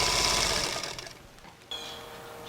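A sewing machine stitches a 1/4 inch seam through tightly woven batik fabric, a steady buzzing whir that winds down partway, goes quiet, then resumes with a tone that holds to the end.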